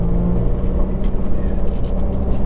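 A 2019 Subaru WRX fitted with a Remark Stealth Edition axleback exhaust, in Sport mode, gives a loud, close, deep rumbling exhaust note that swells slightly as the engine revs, with no speech.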